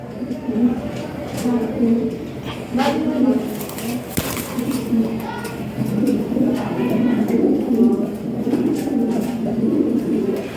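Lahori Shirazi fancy pigeons coo in soft, repeated low phrases, close and steady, while someone talks over them almost throughout.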